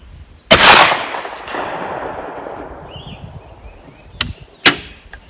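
A 20 gauge shotgun fires a reloaded Lyman pellet slug at an outdoor range: one loud, close blast rings out and decays slowly, followed a few seconds later by two brief sharp knocks.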